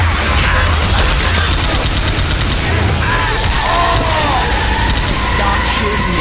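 Chaotic video game gunfire with booms and yelling voices, a dense, loud, continuous barrage that fills the whole stretch.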